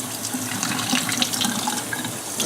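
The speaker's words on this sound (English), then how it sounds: "So I just run it under water." Tap water runs steadily from a faucet to rinse goldfish tank parts, a continuous close splashing hiss with small bright droplet spatters and no voices.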